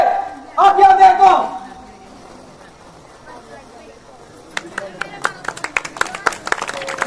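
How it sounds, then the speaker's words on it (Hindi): Scattered hand claps from an audience at a village Ram Leela stage performance break out after a brief amplified voice, growing into a loose, uneven patter of applause. "जोरदार तालियां, जोरदार"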